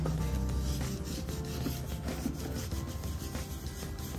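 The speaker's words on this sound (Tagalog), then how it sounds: "So, quick wipe lang." Cloth rubbing steadily over a sneaker during cleaning, a continuous close rasping wipe with no pauses and no voices.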